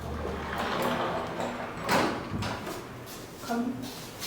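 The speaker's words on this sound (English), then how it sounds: "So on the left is the bathroom, and they have these sliding doors." Sliding doors to a hotel bathroom glide and bump on their track in an ocean-view swim-up room, a few soft rolling thuds and knocks over light room noise, with a voice speaking faintly in the background.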